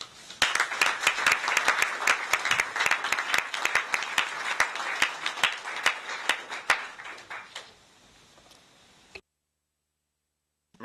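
An audience at a regional health partners meeting applauds after a prime minister's speech, a burst of dense clapping that thins into scattered individual claps and fades out to silence.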